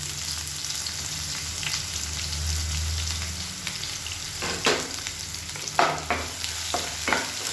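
Sliced onions sizzle in hot oil with garlic in a pan for egg fried rice, a steady close frying hiss broken by several scraping stirs of a utensil, with no talk.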